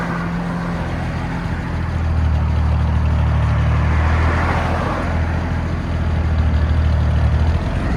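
1952 International L-100 truck with an inline six and glass pack exhaust idling close by, a deep rumbling burble that swells slightly louder partway through, no talk.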